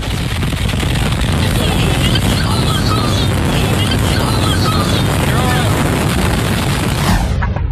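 Roaring tornado winds sweep beneath a highway overpass in Kansas as a storm bears down, a loud, continuous broadband rush and rumble with buffeting gusts, cutting off abruptly near the end.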